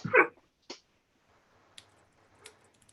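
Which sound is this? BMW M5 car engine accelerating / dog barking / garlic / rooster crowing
dog barking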